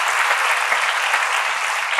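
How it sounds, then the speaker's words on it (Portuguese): Loud, dense applause from a live audience at a talk event fills the whole short stretch as an even, continuous wash of clapping hands. "Não batam palmas que não vai correr bem."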